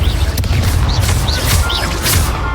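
A Confringo blasting spell explosion in the video game Hogwarts Legacy erupts as a loud, sustained roaring blast, with rising whistling effects repeating above the rumble.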